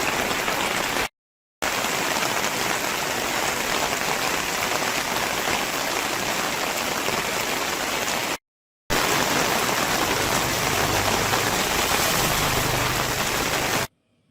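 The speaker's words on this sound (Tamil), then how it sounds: "காலையில் கனமழை கொட்டியது" Heavy rain pours steadily on Chennai's suburbs during a morning downpour, a loud, dense, continuous hiss of drops on surfaces, broken by two brief silent gaps.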